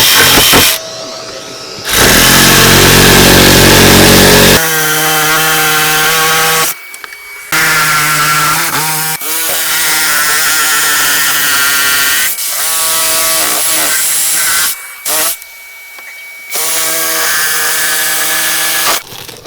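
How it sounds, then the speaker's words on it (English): A reciprocating saw cutting wood buzzes loudly in long stretches, its motor pitch shifting as it cuts, with brief pauses between runs. "this reciprocating saw then finishes off the top"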